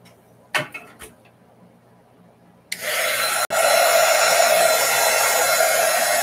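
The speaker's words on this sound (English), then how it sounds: "Heat gun alert." A heat gun switches on after a few faint clicks and knocks, then blows with a steady, loud, close rushing whoosh that continues to the end with a brief hitch midway.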